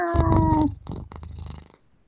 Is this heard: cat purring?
yes